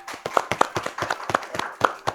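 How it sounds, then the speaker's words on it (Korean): Repeated hand claps from a small group at a Korean volleyball award ceremony, sharp and irregular, fairly close, with no voices over them. "우리 선수들한테도 응원의 박수를 보냅니다"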